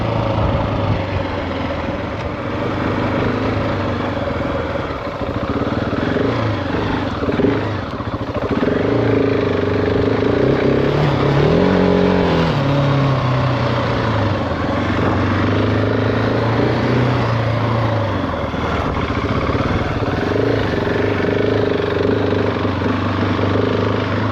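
GasGas ES 700 motorcycle on a test ride, its engine droning steadily with rising and falling revs across the whole stretch, a shift-like dip and surge midway, close and loud.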